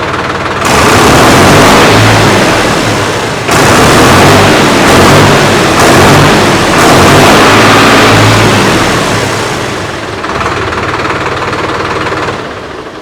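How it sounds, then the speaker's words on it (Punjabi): A loud diesel engine of a 50 hp Solis tractor starts, runs and revs, its rough rumble rising and dipping in bursts before settling toward an idle. "ਟਰੈਕਟਰ ਆਪਾਂ ਸਟਾਰਟ ਕਰਕੇ ਤੁਹਾਡੇ ਸਾਹਮਣੇ ਦੇਖੀਏ ਸਾਰੀ ਰੇਸ ਕਰਕੇ"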